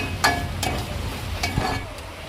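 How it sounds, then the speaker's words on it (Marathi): A spoon stirs and mixes spices into fish in a hot pan, with a soft sizzle underneath and a few brief scraping strokes at irregular intervals, close and moderately quiet. "आणि मिक्स करून घेऊया चांगल्यापैकी मिक्स करून घेऊया"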